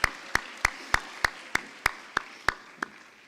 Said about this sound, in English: So for our climbers, a round of applause.